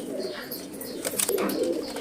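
Young pigeons in a loft coo softly up close, a few low murmuring calls over a faint rustling background, with no one talking.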